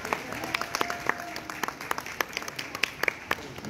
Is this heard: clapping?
yes